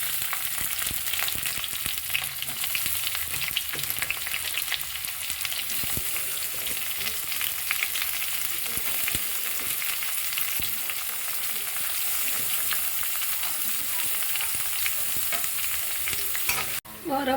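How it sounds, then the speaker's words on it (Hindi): Garlic and sliced onion sizzle steadily in hot oil in a pan, a continuous loud frying hiss with occasional stirring scrapes throughout. "तो अब इसमें मैं ऑनियन डाल रही हूँ।"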